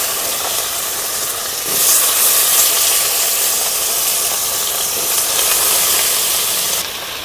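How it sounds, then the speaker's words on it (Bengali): Potatoes frying in hot oil in a wok, a continuous loud sizzling hiss that swells sharply for a few seconds in the middle, then settles again, with no voices. "এবার ফের কড়াতে তেল দিয়ে আলুগুলো এবারে ভেজে নেবো ভালো করে"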